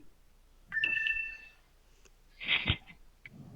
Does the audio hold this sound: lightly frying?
no